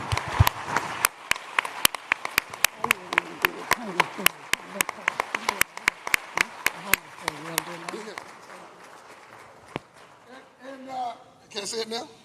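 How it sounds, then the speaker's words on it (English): Scattered audience applause at a global forum, sharp individual claps ringing out irregularly and thinning over time, with voices talking throughout underneath. "Please give these people a round of applause."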